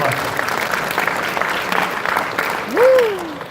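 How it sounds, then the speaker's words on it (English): An audience gives a round of applause, a continuous wash of clapping with a voice briefly rising over it near the end. "give a round of applause"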